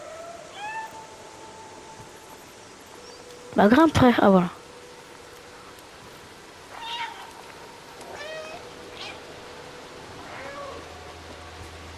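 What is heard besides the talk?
cat meowing in the video game Stray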